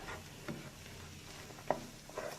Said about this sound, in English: So you just kind of saute this in there with the onions